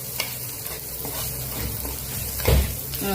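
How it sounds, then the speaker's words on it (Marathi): Onions frying with turmeric in a pan as tomatoes go in, with steady close sizzling, stirring scrapes and a brief louder thump near the end. "आता मी याच्यामध्ये टाकून घेणार टोमॅटो."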